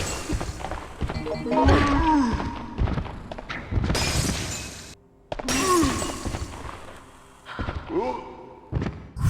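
Yellow chemical bottles shatter against zombies in Resident Evil Outbreak, a series of loud glassy smashes and heavy thuds in quick bursts with brief gaps between them.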